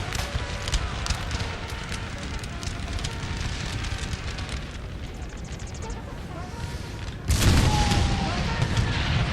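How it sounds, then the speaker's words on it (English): Cannon batteries keep up fire in a Napoleon Total War battle at Wilson's Creek, with dense, continuous booming and crackling gunfire throughout and a heavier burst of blasts near the end. "look at the guns firing here"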